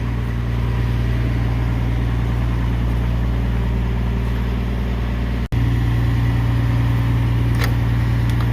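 Steady low engine drone from a log loader running at idle, with one brief dropout as gears are shifted; loud and continuous, no talk.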